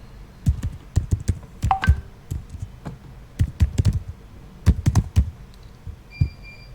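Keys on a keyboard clack in uneven bursts as a phone number and email address are typed in, crisp close-up taps with short pauses between groups.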